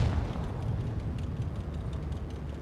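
A dense, roaring rumble of a high-explosive shell striking a tank in a tank battle game, loud and sustained without clear separate blasts.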